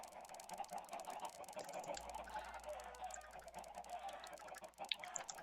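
Dense clucking from a huge flock of thousands of chickens packed together in a poultry shed, a continuous busy chatter of many birds close by with scattered sharper squawks and no talking.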